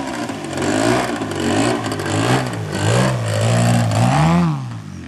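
A medium engine revs hard in repeated surges, the pitch climbing and falling, then drops back toward a lower idle, loud and close.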